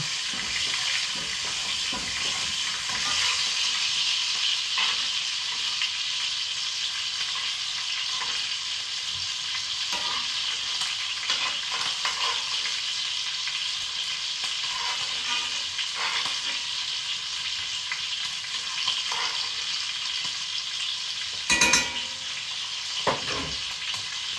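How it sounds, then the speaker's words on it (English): Steak sears in a hot pan with a continuous, fairly loud, bright sizzle and spatter that holds steady throughout, broken by a few small clicks and knocks, with no talking. "So give that a minute to sear in that side."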